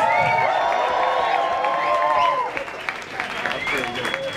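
Audience at a Brighton poetry and rap night applauding and cheering, a brief burst of crowd noise and whoops mixed with a voice that fades into scattered clapping.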